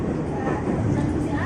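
A 12-car KRL commuter train runs along, a loud steady rail rumble heard from inside, with a voice talking over it.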